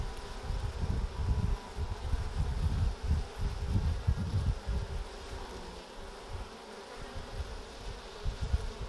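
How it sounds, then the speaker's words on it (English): Honey bees from a strong hive that has come through winter buzz in a dense, steady drone at close range in early spring, with light rustling and no talk. "Pete's got some nice bees here."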